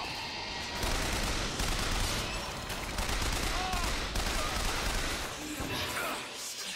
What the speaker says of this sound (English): we're going big gun